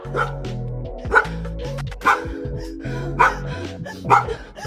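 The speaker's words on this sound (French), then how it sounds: "le chien il faisait son ouf ouf" A dog barks repeatedly and loudly nearby, about five sharp barks spaced roughly a second apart, with a whiny edge between them.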